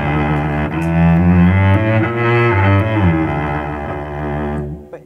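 A Stradivarius cello plays a warm, fruity-toned phrase, bowed notes rising and shifting over about five seconds before fading with a small bump at the end, heard alone without talking.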